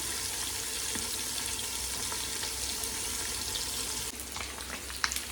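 An egg fries in a hot pan, a steady, close broadband sizzle that runs unbroken, with a few light clinks and taps near the end.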